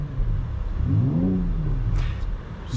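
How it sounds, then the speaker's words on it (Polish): A 2024 BMW XM 50e engine turns over and catches, rising in pitch as it revs up and then easing back to a steady idle, fairly close. "jak tutaj odpalimy silnik, na M2 sobie damy"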